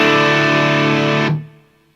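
A sustained electric guitar chord through a Bear's Blare overdrive pedal rings loudly, then is cut off and fades into a short decay.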